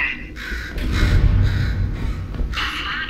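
A crow caws in the video game Portal 2, with harsh repeated calls over a dense game soundscape and low rumble, and no talking.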